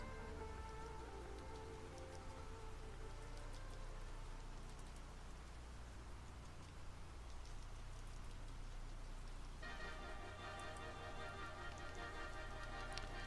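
Steady rain falls outdoors, a dense continuous patter on surfaces with scattered drips, faint and unbroken throughout with no voices.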